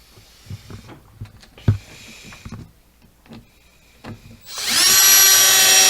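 A power drill driving a screw into a piece of wood for an A-frame trestle whirs up loudly near the end, after quieter workshop knocks and handling noises, close up with no talk.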